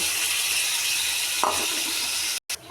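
Taro pieces go into a pan of sizzling fried spice paste. A dense, steady hiss carries on with a short splash of louder sizzle midway, then a brief break in the sound.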